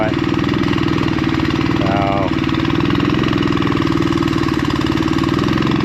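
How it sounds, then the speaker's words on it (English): A fogged engine on a corn planter runs rough with a steady knocking, uneven idle close by, and a brief whine rises over it partway through. "We fogged all these engines, but that one there isn't running all that great."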